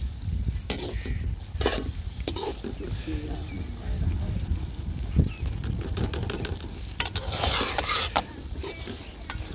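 Boneless chicken stirred with pre-fried vegetables in a pan over village-style cooking heat, a steady scraping and soft sizzle with occasional utensil knocks, continuous and close, while a person talks over it.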